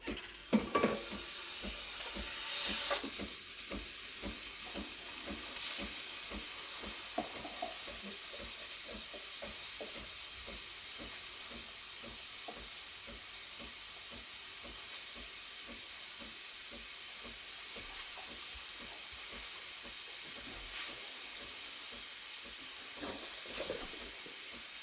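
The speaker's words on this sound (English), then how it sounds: "So turn on the steamer." A Breville Barista Express BES870 steam wand steams milk in a jug, giving a continuous close hiss that starts after a few soft clicks and runs steadily to the end.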